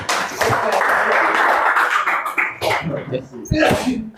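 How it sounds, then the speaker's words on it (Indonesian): A university classroom of student teachers claps together in a burst of applause that fades into scattered claps, with voices and chatter mixed in near the end. "Ya, tepuk tangan untuk semuanya dulu."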